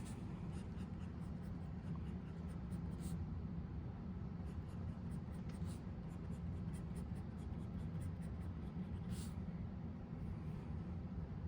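A broad-nib Twsbi Mini AL Grape fountain pen writes steadily on paper, giving a faint, continuous scratchy glide with small strokes throughout and no talking.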